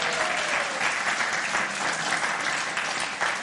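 An audience in a church gives sustained, loud applause, a dense and even clatter of many hands clapping together.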